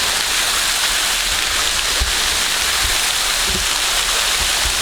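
The Shilghagri waterfall roars steadily from close by, a loud, continuous broadband rush of falling water with no breaks and no voices.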